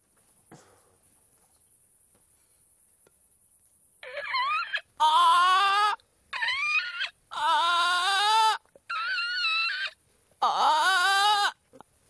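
Several loud, close braying calls in a row after a few quiet seconds, each a harsh, wavering honk separated by short gaps.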